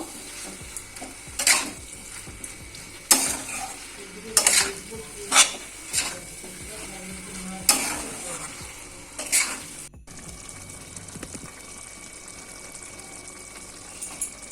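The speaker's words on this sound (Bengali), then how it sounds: "আবার একবার নেড়ে দেবো, ভালো করে নেড়ে আমি মাখা মাখা করবো।" A prawn posto mixture with potato, stirred in a sizzling pan, gives repeated loud spoon scrapes and clatters against the metal over a constant frying hiss, then settles into quieter sizzling.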